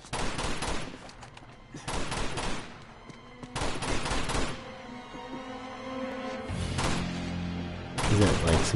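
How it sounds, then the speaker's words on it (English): Video game gunfire in Uncharted 2 comes in several dense bursts of rapid automatic shots with booming low thuds, loud and close, separated by short quieter gaps. "Like, what are you shooting at? Shooting at the air, bro."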